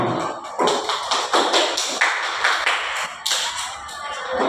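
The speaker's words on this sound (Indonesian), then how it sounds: "terus kasih tepuk tangan untuk Opi" Classroom applause for a student, a short burst of hand claps and taps from several people nearby, fairly loud and uneven, with no talking over it.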